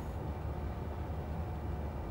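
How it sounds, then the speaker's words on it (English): A London Underground tube train rumbles past in the opposite direction on the Chiltern Main Line in Train Simulator, a steady low rolling rail noise heard alone at moderate level. "Oh, tube train going the other way."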